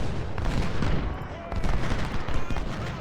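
Massed rifle volleys and artillery in the Civil War strategy game Ultimate General at the Battle of Chantilly: a dense, continuous roar of gunfire and booms, loud and unbroken throughout, with a voice speaking over it.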